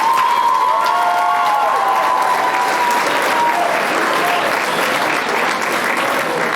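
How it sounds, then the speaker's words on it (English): An audience at a fall sports awards night applauds the coaches, sustained and loud dense clapping with some cheering mixed in throughout. "Can we just give them a round of applause?"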